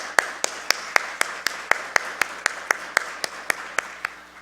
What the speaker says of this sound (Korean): 오늘 귀한 찬양 주신 우리 찬양대 박수로 격려하겠습니다